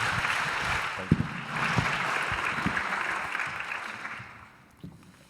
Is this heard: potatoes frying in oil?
no